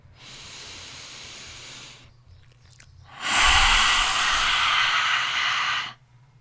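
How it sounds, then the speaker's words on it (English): A long, slow exhale through the mouth comes close and breathy, followed after a pause by a second, louder, fuller breath out lasting several seconds. "Breathing out."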